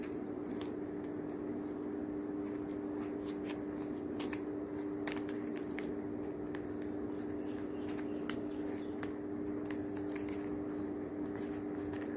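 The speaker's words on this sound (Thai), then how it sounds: "แล้วก็ตัดปลายริบบิ้นทิ้ง" Scissors snipping off the loose end of a satin ribbon while finishing a folded ribbon coin-gift flower, heard as sparse, crisp close snips scattered over a steady low hum.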